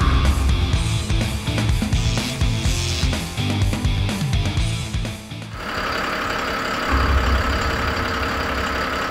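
A small fishing boat engine idling at sea off Oeyeondo, a steady low mechanical rumble that runs continuously and loud, with clattering handling noise over it in the first half before it settles into an even drone.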